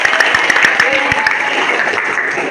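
A class of pupils gives a short round of clapping, brisk and fairly loud, with some voices mixed in.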